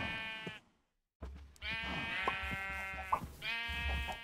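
Sheep in the video game Minecraft give several drawn-out, wavering bleats, close and clear, separated by a short silence and overlapping near the end.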